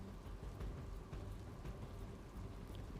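Heavy rain pours down steadily over flood-threatened Valsad in Gujarat, a dense, continuous hiss that stays loud and even throughout with no voices.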